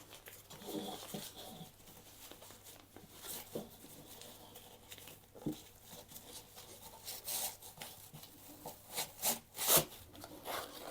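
An OEX Tacana Solo Stove set being pulled out of its fabric storage bag, with close, intermittent rubbing, rustling and scraping handling noises and a few sharper knocks, no voices.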